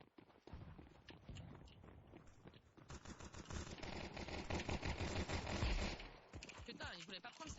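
Rapid gunfire from Counter-Strike 2 crackles almost without break through a firefight, fairly dense bursts at moderate level, while players talk over it in French.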